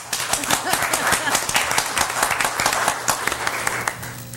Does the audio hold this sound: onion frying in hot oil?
no